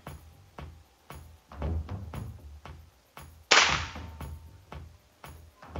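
Shots from a Neo GNT Titanium v2 air rifle during an accuracy test, a series of sharp, evenly spaced cracks with one louder, brighter snap in the middle, fairly quiet overall.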